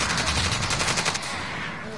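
Rapid automatic gunfire from a PS4 shooter video game, a dense burst of loud, crackling shots filling the first second before easing into quieter game noise.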